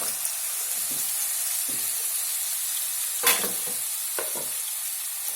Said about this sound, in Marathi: काप केलेली तोंडली टाकूया।